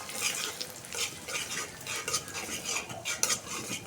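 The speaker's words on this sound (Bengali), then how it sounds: "পেঁয়াজটা একটু লাল করে নিব, ডিমটা দিয়ে দিচ্ছি, ভাইজে দেবো ভালোভাবে।" Egg and reddened onion fry together in a pan while a utensil stirs and scrapes repeatedly against the metal, with a light sizzle beneath the quick, uneven clinks.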